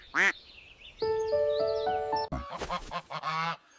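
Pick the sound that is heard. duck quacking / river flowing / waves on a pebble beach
duck quacking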